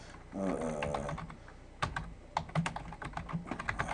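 Computer keyboard typing in quick, uneven bursts of crisp keystrokes. It is close and fairly quiet, starting with a longer run of keys and then going on in scattered clicks, with no talking.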